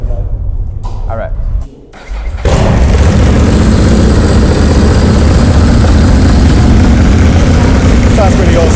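A custom-built Ducati Monster S2R motorcycle fires up after a brief quiet moment, then settles into a loud, steady, throbbing idle close by while people talk faintly beneath it.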